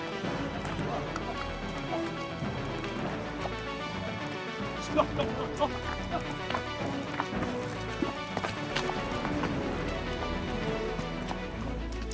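A horse, on a muddy forest trail after rain and snow near Pahalgam, plods through the mud with soft, irregular hoof clops throughout. People talk over the steps.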